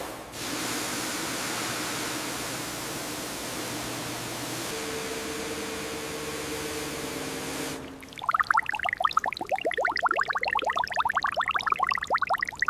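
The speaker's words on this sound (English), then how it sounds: "time to flush out this cabin" Water spray blasting debris, mouse nests and insulation dust out of a 1953 Mercedes-Benz 170VB W136 cabin, a loud steady hissing rush that shifts midway, then gives way to choppy, splattering bursts close by.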